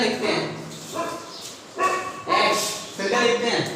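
A dog barks and yips in a few short bursts behind a lesson recording, mixed with an ongoing voice and slightly distant, with no clear gaps between the yelps and the talking.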